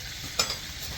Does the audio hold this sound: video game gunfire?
no